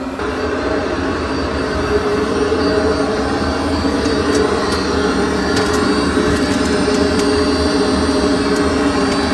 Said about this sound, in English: it sounds like the Webasto is a lot louder